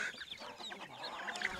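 Chickens cluck softly in a farm shed where pigs and chickens are raised, a faint scatter of overlapping clucks at a distance.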